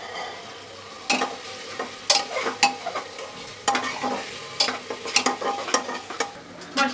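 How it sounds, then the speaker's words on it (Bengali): Spices with salt and turmeric being stirred and fried in a pan for vuna khichuri, with repeated scraping strokes of a spoon over a steady close sizzle and no talk. "লবণ আর হলদি গুঁড়ো দিয়ে একটু নেড়ে নেবো"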